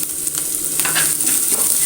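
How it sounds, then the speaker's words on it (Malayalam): Garlic and curry leaves fry in hot oil for a Kerala mango puliyanchy, giving a steady, close, crackling sizzle with occasional stirring, and no voices. "ഇനി നല്ലോണം അത് മുരിച്ച് വറുത്തെടുക്കാം"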